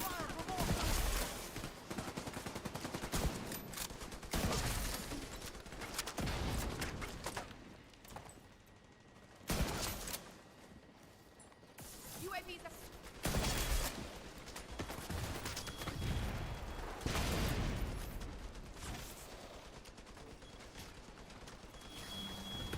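Gunfire in the PUBG shooter video game, dense bursts of automatic fire and repeated shots across the whole stretch, loud and continuous with brief lulls, while a voice talks over it.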